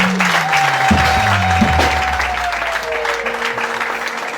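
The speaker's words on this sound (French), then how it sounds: "je tiens à ce que juste on les applaudisse encore une fois" Audience at an evangelical church consecration ceremony clapping for honored volunteers, a dense crowd applause with sustained tones and voices mixed in underneath.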